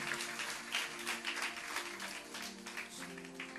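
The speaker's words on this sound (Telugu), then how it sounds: "చప్పట్లు కొట్టి దేవుని మహిమపరుచుకుందాం" A church congregation claps together during a Telugu Christian worship service, a dense, steady wash of many hands close by, with a faint sustained musical tone running underneath.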